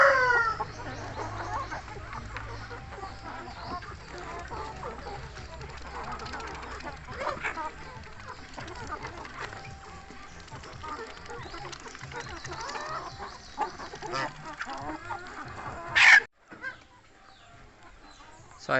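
Rhode Island Red chickens cluck and a rooster crows among a busy farmyard din, with a sharp louder burst near the end.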